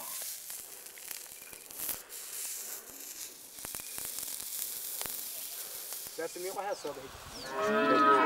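Cattle of the Barabaig herders in Tanzania moo loudly as they are branded with red-hot irons, with faint sizzling and scattered background noise before the long, close lowing calls near the end.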